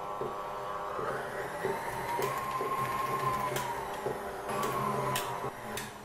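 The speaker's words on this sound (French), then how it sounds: "Ce que je vais faire en fait c'est l'ajouter tout ça en même temps que mon batteur mix comme ceci." An electric hand mixer whirs steadily as it beats melted dark chocolate into cupcake batter, a continuous mechanical drone with small rattling clicks from the beaters against the bowl.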